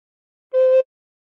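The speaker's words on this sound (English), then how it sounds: "Covering the thumb hole, put finger 2 on hole 2 and blow once." A single sustained recorder note played with the thumb hole and hole 2 covered, one clean breathy tone lasting about a third of a second, alone in silence.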